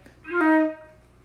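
A single close woodwind note carries a brisk mordent produced with a trill fingering, the right-hand middle finger flicking once near the start before the tone holds briefly and fades, heard alone.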